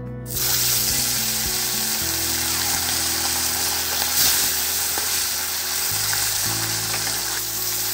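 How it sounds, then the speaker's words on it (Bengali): Fish fry in hot mustard oil with a loud, steady sizzle that hisses continuously up close, with a low hum running underneath. "এবার আমি মাছগুলো ভেজে নেবো"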